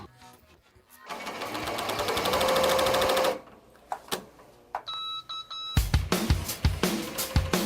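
A sewing machine stitches a test seam in a loud, close, steady rattling run of about two seconds. A few beeps from the machine follow, then bursts of quicker stitching.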